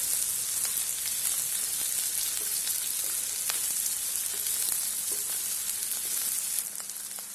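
Pasta cooking with tomato in a pan for a Tamil-style masala pasta, a steady close sizzle and frying hiss throughout with occasional faint stirring clicks, no talk.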